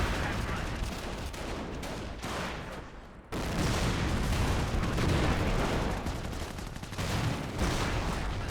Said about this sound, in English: the Panzer player had trouble dodging the artillery barrage again